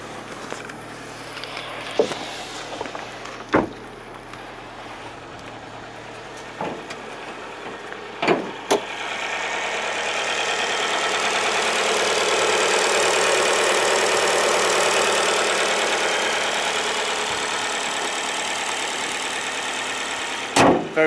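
An Alfa Romeo Giulietta 1.4 MultiAir Veloce engine idles with the bonnet open, a steady low hum that swells into a broader hiss midway, marked by a few sharp clicks and knocks.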